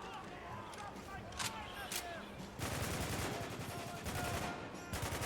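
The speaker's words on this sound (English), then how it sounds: "Who are they shooting at?" Gunfire in Spec Ops: The Line, sporadic shots at first followed by a loud continuous automatic barrage with dense overlapping bursts, with a voice speaking underneath.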